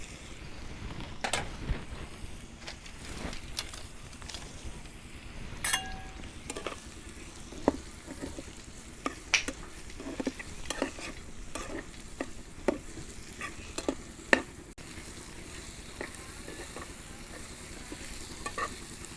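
Salt, turmeric powder and dried red chilli paste fry in a pan for a Bengali data chorchori, with a low steady sizzle and repeated clinking, scraping stirs scattered across the whole stretch.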